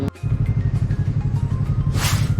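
A 2018 Yamaha MT03 motorcycle exhaust idles with a steady, pulsing burble close by, then gives a brief rev with a sharp rise near the end, with no voices.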